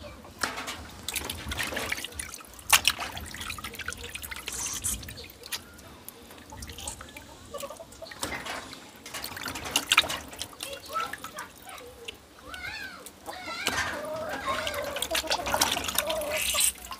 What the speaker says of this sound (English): Wash them out with water, vinegar water.